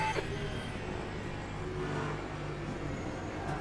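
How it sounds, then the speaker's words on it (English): A turbocharged Alpine hypercar engine in a racing video game drones steadily with a faint high turbo whine over it, a continuous motor sound without any talking. "You can hear the turbo on that Alpine."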